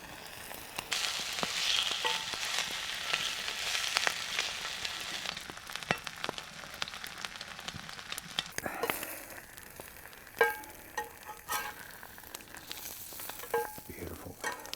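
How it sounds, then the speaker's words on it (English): Bacon and eggs frying in a pan over an open campfire in the bush, a steady close sizzle with crackles and scrapes of stirring throughout, no talk. "Bacon and eggs, cup on the go, on the fire."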